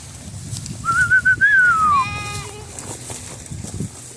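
One clear, wavering goat bleat rises close by on a mountain farm during a herd move, with further short animal calls and low outdoor rumble beneath.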